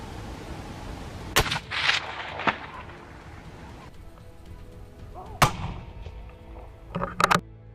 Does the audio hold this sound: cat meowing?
no